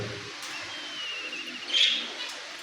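A pet myna bird calling nearby in a home setting, a thin high whistling note followed by a short, brighter chirp over a steady background hiss, with no talking.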